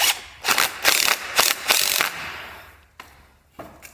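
Ratchet tightening a bar end mirror on a 2017 Kawasaki Z650, a quick run of close clicking bursts that fades into a few softer, spaced clicks near the end.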